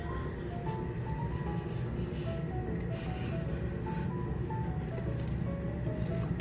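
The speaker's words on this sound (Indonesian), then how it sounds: "Sebelumnya kita buang dulu airnya." Water poured out of a chili pepper seedling container, a continuous soft splashing and trickling with small drips, moderately close under a low background rumble.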